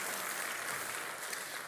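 A church congregation claps together in a steady, dense wash of applause that holds evenly throughout without any voices.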